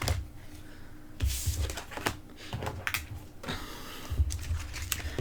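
A deck of oracle cards is shuffled by hand once, making soft, quick riffling patters and flicks in short bursts, close and fairly quiet.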